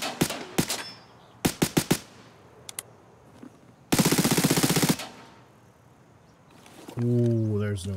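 An MP7 submachine gun in Escape From Tarkov fires sharp single shots and short bursts, then one longer rapid automatic string, followed by a voice speaking near the end.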